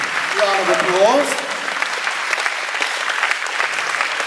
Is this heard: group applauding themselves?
yes